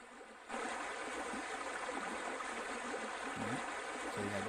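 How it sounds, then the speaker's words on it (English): A waterfall in the video game Another World rushes as a steady, soft broadband wash that starts abruptly after a short quiet moment and continues evenly. "So we have the waterfall here."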